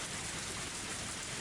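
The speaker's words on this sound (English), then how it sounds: "The sound of falling raindrops was fierce as always." Heavy rain pours down in a dense, steady roar with no pauses, fierce falling rain from the game Higurashi When They Cry Hou, filling the whole short stretch.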